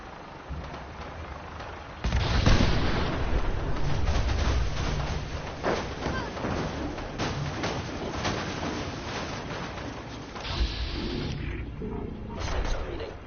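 Gunfire in a Fallout 4 combat encounter: rapid bursts of shots and impacts erupt suddenly after a quiet stretch, continuing loud and dense with some sharp cracks, then a second heavy burst near the end.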